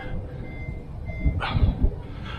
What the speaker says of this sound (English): Let me just turn this lights off so it doesn't keep beeping at me